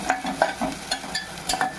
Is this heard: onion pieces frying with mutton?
yes